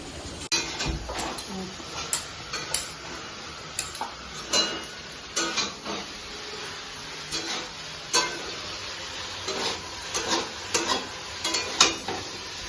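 Vegetable curry cooks in a pan in a home kitchen, with a soft sizzle under repeated sharp clinks and scrapes of a spoon stirring against the metal.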